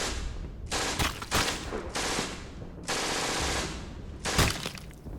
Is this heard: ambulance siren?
no